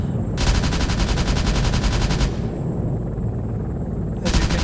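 A 20mm Gatling gun on a Comanche helicopter firing high-explosive rounds in Arma 3, two loud continuous rapid-fire bursts with a short gap between them, heard up close.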